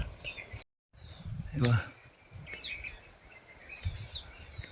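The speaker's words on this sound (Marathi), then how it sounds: "पक्ष्यांचे आवाज" Birds call near the Narmada river along a rural route to an ashram, sounding as a few sharp, high chirps spaced across the stretch over a steady outdoor background with rushing water and low rumble, with one brief dropout.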